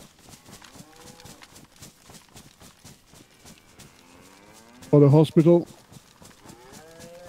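Cow in the Bitterroot video game gives two loud, close moos in quick succession midway, over steady rhythmic footstep-like thumps and a brief spoken line.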